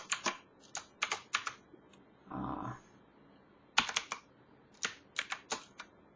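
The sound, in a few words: typing R code on a computer keyboard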